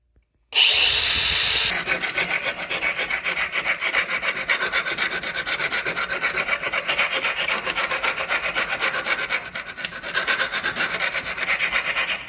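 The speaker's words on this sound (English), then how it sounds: "I'm going to notch out a half circle in this piece of sheet metal, so I can get it to fit on the frame close to the rear axle." A sheet-metal panel is notched with a half-circle cut while fitting a headlight mount on a mini bike frame, a loud, continuous harsh rasping after a sudden start, steady and close with no talking.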